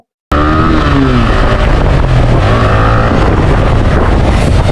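A motorbike ridden fast, its engine roaring loudly and steadily together with heavy wind rush. The noise starts abruptly after a brief silence and then holds constant.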